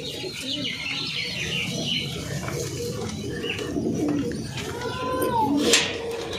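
Pigeons coo in a backyard loft at a breeder's home that keeps breeds such as Kalshira and Kaldom, a steady layer of soft calls and chirps with faint background voices throughout.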